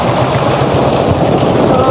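Steady rain pours down over a flooded squatter settlement, a dense continuous hiss of drops hitting surfaces, loud and close, with no other distinct sounds standing out.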